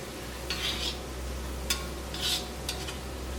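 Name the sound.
stirring fried onion with turmeric in oil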